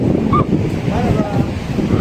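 Wind and surf roll steadily at a cold beach, a broad, close rumble of wind buffeting the microphone over breaking waves, with a brief bird call near the start.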